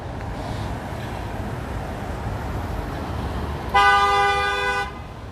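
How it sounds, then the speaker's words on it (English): A loud, single sustained fire truck air horn blast rings out for about a second over low, steady road rumble on a street in Queens, New York City, fairly close by. "there's a fire truck behind you blasting their air horn"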